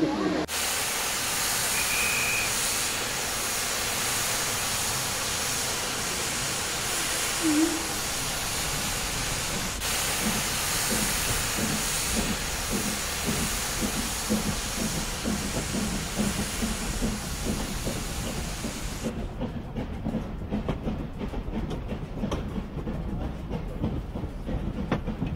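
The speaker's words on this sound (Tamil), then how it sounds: "சூப்பர் கூல் ரைடு ஒன்று போயிட்டு வந்தாங்க அந்த ஸ்டீம் ட்ரெயினில்." A heritage steam train on the Umgeni Steam Railway near Inchanga hisses steam and rumbles along with steady clickety-clack, a continuous loud wash of noise that thins near the end to rhythmic wheel clatter.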